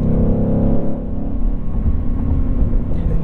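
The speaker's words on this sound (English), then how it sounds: "That transmission shifts so fast, it is absolutely unreal that is just a normal torque converter automatic" Inside a 2021 Ford Mustang Mach 1 with a torque converter automatic transmission, a steady loud low engine rumble fills the cabin as the car accelerates, with shifts blending into the continuous drone.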